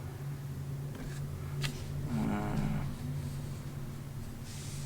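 Highway traffic rolls past on the prairie road near Swift Current, Saskatchewan, with pickup trucks among it: a continuous low engine and tire drone and one vehicle swelling briefly closer in the middle before fading.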